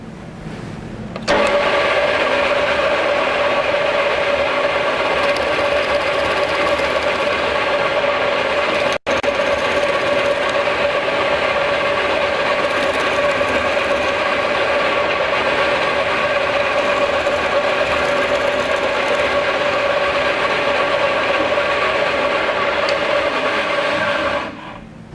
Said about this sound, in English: We're now ready to start drilling. First, turn on the machine.